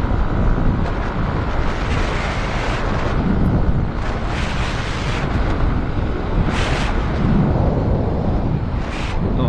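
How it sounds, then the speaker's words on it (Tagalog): Strong wind roars and buffets against the microphone in a continuous loud rush, with gusts swelling and fading throughout. "malakas ang hangin talaga."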